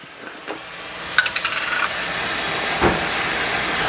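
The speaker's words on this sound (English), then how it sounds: "Just gonna let that sear on the bottom for a minute." Seasoned beef searing in a hot pan gives a steady, loud broadband sizzle and hiss that builds over the clip, with a few brief clicks and pops early on.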